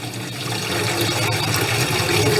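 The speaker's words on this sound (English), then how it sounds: "let that water drain away" Water pours and gurgles steadily from a jar of soaking olives, a continuous close splashing rush of draining liquid with no voices.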